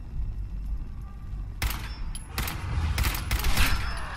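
Bursts of rapid automatic gunfire in the video game Fallout 4, several dense volleys starting after a quiet stretch and recurring loudly toward the end.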